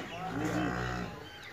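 A cow at a cattle and buffalo sale gives one long, low moo that swells and fades, heard fairly close against faint background noise.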